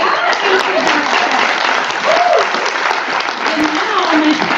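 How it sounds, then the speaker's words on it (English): Sustained audience applause at a book event, loud and steady throughout with dense clapping and faint voices mixed in. "How about a round of applause for"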